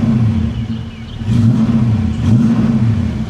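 A classic car at a Barrett-Jackson auction runs loudly up close, its engine droning steadily and then revving in a couple of rising surges, with no voices.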